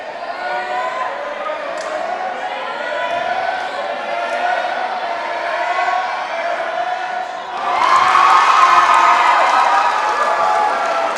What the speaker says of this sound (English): We got a battle of the crowds going at the end of this girls' game.